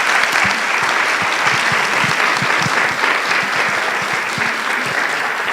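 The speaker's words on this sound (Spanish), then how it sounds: "brindémosle un fuerte aplauso" Sustained applause from an audience at an academic conference session honoring a lecturer on forced displacement in Colombia, dense and steady clapping filling the room at even loudness throughout.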